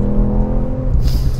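A Ford Fiesta ST three-cylinder engine pulls hard in fourth gear while driving, with a steady droning rev and rising harmonics. It sits close and loud throughout with no talk.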